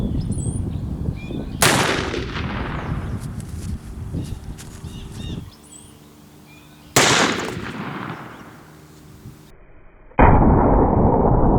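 A .44 Magnum revolver fires into a ballistics gel block outdoors, sending out loud sharp reports with rolling echoes, three distinct shots spaced several seconds apart.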